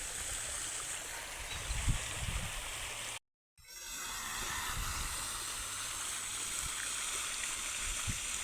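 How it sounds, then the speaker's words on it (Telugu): Water from a tank flows into a farm field with a soft, steady rushing and trickling. The sound is moderately distant, cuts out briefly, then resumes evenly, with faint low thumps underneath. "ఇప్పుడు దుంకుతుంది నీళ్ళు."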